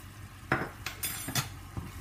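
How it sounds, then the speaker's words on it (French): Stirring cumin, sweet paprika, turmeric and pepper together in a pan for kefta tajine, a few short scraping strokes of a utensil against the pan, quiet and close. "Et on mélange bien le tout."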